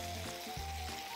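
Peppers sizzle steadily in a frying pan, a continuous broadband hiss close by with a low hum beneath, no voices over it.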